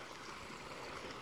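A river flowing beside a countryside path in Galicia, a steady soft rushing wash of water with no breaks, faint and even throughout.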